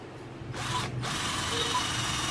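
Cordless battery drill drilling into metal roofing sheet: a steady, loud motor whine kicks in after a brief quiet start, drops out for a moment, then resumes and runs continuously to the end.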